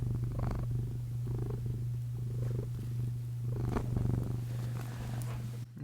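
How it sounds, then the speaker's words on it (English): A house cat purrs steadily right against the microphone, a close, continuous low rumble broken by soft breathy rises, with no talking. "You just want to purr into the mic?"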